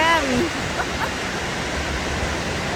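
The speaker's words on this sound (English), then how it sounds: "And this is the river." A river near Vancouver, British Columbia, rushes past in a steady, full broadband wash that holds constant throughout, with a brief voice at the very start.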